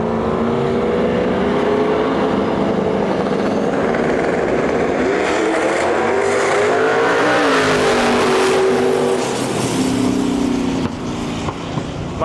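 Race cars roar down a drag strip, one an SN95 Ford Mustang, engines loud and close with rising revs and pitch sweeps as they accelerate, continuous throughout.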